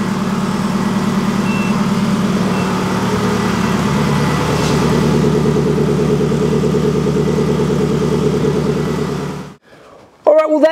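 A Ferrari engine fitted in an Alfa Romeo 105 runs steadily with a deep, even exhaust drone close by, holding for about nine seconds before cutting off abruptly, followed by a brief voice.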